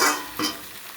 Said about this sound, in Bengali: এবার আমি জল দেবো।